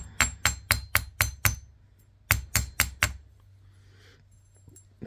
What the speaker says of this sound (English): we're going to hammer these a little bit with our nylon hammer